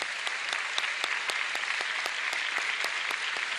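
Applause for doctors on their day, a sustained round of clapping from a crowd, dense and even, with no speech over it.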